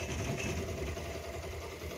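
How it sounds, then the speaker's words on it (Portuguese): A motorcycle engine idles steadily and close by throughout, a continuous low rumble with no revving, heard outdoors with no talking. "a moto tá ligada"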